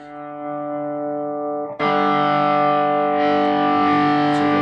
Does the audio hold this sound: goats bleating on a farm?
no